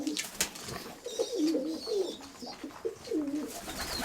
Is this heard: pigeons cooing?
yes